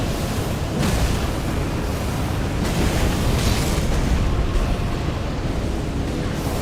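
Elden Ring boss fight in which a weapon skill is used again and again, producing loud, repeated booming impacts and bursts, one after another without pause.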